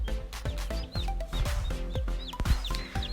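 Newborn chicks peep close by in a steady chorus of shrill, rising chirps, several birds overlapping with no pauses.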